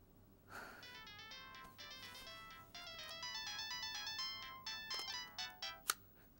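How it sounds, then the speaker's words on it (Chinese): An electronic telephone ringtone trills in repeated bursts, clear and fairly close in a quiet room, ending with a sharp click. "我现在就去给高明打电话。"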